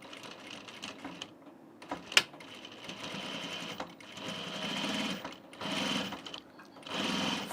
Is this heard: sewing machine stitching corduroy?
yes